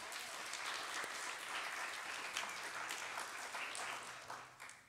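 A church congregation at a Sunday morning worship service applauds the youth who led, a broad steady wash of clapping heard from a distance that tapers off at the close.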